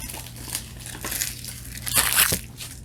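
Plastic wrapping crinkles and crunches as it is peeled off a boxed Tomica die-cast model car, with soft intermittent rustles building to a louder crackling burst near the end, close up with no talking.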